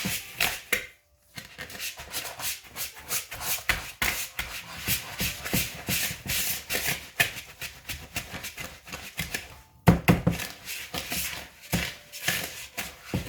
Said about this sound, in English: I'm using the whisk because the whisk is going to make it get soft or quicker